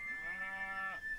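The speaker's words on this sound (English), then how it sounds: "Alright, sheep. You're hungry, I know." Sheep bleating in the video game Dragon Quest Builders 2, a single short, quiet, nasal bleat with a wavering tone lasting about a second.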